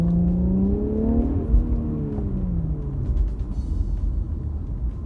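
A car with a Pedal Commander throttle controller revs and pulls away, engine pitch climbing then settling into a rumbling whir that fades slightly as it drives on.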